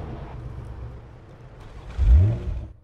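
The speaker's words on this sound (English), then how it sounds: "Oh my god, her car is still so loud." A car engine in the video game Police Simulator: Patrol Officers hums steadily, then surges into a loud, close rev before settling.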